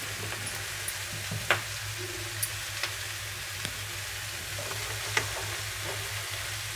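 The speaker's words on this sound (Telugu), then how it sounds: "ఇప్పుడు మనకు క్యాబేజీ, ఈ నూడిల్స్, ఉప్పు, కారము బాగా ఈ నూడిల్స్కి పట్టేలాగా కలిపేసుకుందాము" Noodles with cabbage, salt and chili powder fry in a pan, a steady low sizzle under a constant hum, broken by scattered clicks and scrapes of stirring at close range.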